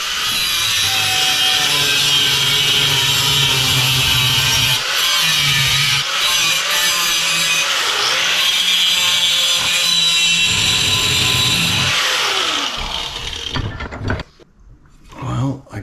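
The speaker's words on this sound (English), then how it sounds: "I guess I'm glad I decided to grab the cutoff" A cutoff wheel grinds through metal with a loud, sustained high-pitched whine up close, briefly dipping as the cut bites, then spinning down and fading to quiet near the end.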